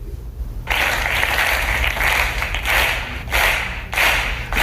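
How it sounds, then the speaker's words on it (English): A group clapping in a podcast studio, starting as dense regular applause, slowing to a few spaced, heavy claps, then picking back up, loud and close with no talk. "it went from a regular clap to a slow clap to a regular clap"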